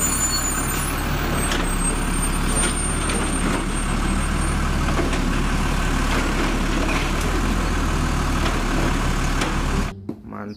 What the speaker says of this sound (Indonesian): Mobil truk pengangkut sampah teman-teman.